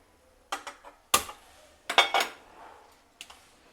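Metal pan handled in a home kitchen while making murmura laddu, with a few sharp clanks and scrapes in separate bursts, close and fairly loud against a quiet room.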